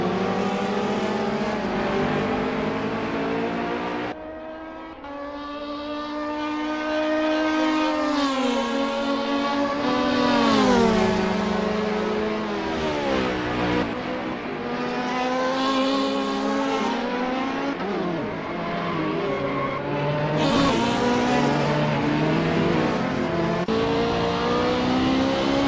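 Race car engines roar and rev through gear changes in an Assetto Corsa online race, including a Ferrari 458 and a BMW M3, with rising and falling pitch sweeps as cars accelerate, shift and pass, loud and continuous without talk.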